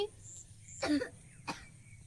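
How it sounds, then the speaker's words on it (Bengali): A person coughs twice, two short, close, harsh bursts about half a second apart in an otherwise quiet room. "কাশিটা হয়েছে কেন"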